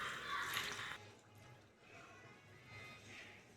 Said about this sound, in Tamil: இதில் நம்ம பால் ஊற்றிக்கணும்.